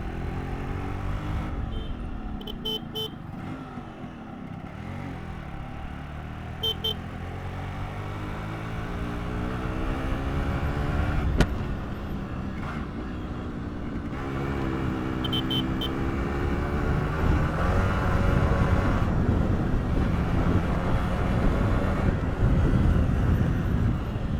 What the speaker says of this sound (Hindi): सुनते हैं प्योर साउंड इस RX 100 का